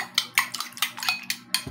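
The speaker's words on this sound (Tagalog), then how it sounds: "Bati tayo ng dalawang itlog." Two eggs being beaten in a bowl, a fork or utensil clinking against the side in quick, steady strokes, close and fairly crisp with no talk.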